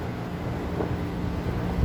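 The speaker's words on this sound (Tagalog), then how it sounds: "Ngayon tinanggal ko siya, so ibig sabihin compressor trabaho na naman." An air conditioner compressor runs in Saudi Arabia, giving off a steady low mechanical hum with a faint tonal drone, continuous and moderately close, with no talking.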